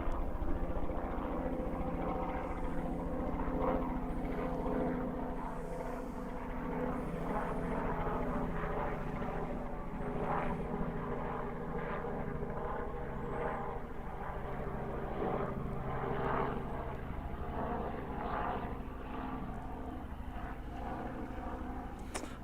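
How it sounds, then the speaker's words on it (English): A helicopter flies over Epsom Downs racecourse, a steady droning rumble with rhythmic rotor thudding that holds at moderate loudness throughout the whole stretch. "Helicopter."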